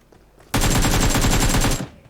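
Sustained burst of rapid automatic gunfire in PUBG Mobile, loud and close, lasting over a second with a dense, even rhythm of shots and no talk over it.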